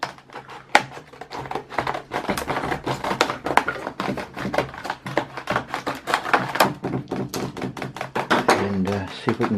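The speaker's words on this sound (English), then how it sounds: "I'll just use a pair of scissors, cut the plastic" Scissors cut through plastic packaging at close range in a series of sharp snips and crinkles, uneven and busy, with a few low thuds.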